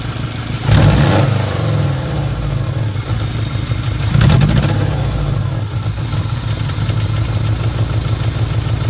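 A 2000 Subaru Impreza with a faulty idle air control valve idles loudly up close, its steady engine hum surging twice in brief rises in revs before settling back to a rough idle.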